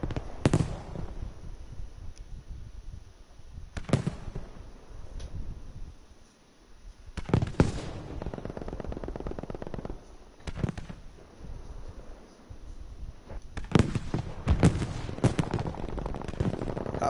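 Gunfire in a competitive Call of Duty league match, with rapid bursts and sharp close-range shots in clusters separated by brief lulls, loud and continuous throughout.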